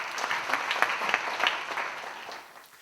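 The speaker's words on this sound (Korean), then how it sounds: "박수로 하세요." Church congregation clapping during a sermon, a brief, moderately close burst of scattered applause that fades out.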